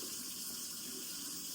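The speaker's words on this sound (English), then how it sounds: "I am going to wash my hands" Tap water runs steadily into a sink during handwashing, making a continuous, even hiss and splash at close range with no talking.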